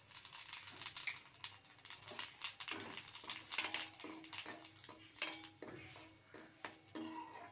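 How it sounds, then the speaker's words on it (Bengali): Cumin seeds tempering in hot oil in a pan while a utensil stirs and scrapes, giving repeated close metallic clinks over a soft, steady sizzle during a fish curry cooked without ground spices. "এবার আমি এর মধ্যে জিরেটা ফোড়ন দিয়ে দেবো"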